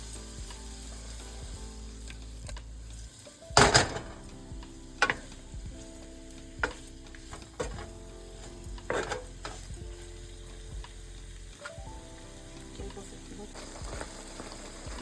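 Steady sizzle of whole spices roasting in a hot pan for paneer lababdar, broken by sharp scraping and clattering stirs, one loud clatter near the start.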